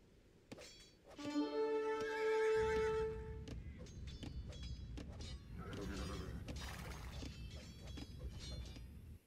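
Horse neighing in a Francisco de Almeida video game campaign, a loud, drawn-out whinny with clip-clopping hooves, clanking mechanisms and a shattering crash, busy and close with no voices.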